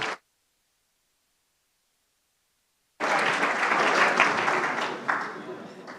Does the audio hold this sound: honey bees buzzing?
no